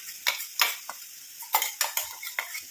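A spoon scraping and clinking against a pan while ground herbal powder is stirred into a mixture, a series of sharp irregular metallic taps and scrapes, fairly close and alone.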